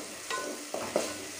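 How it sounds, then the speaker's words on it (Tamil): Finely chopped tomatoes being sautéed and stirred in a pan for a lentil dumpling curry: a few brief, soft scraping stirs over a faint sizzle, with no talking. "பொடியாக நறுக்கி வதக்குறேன்."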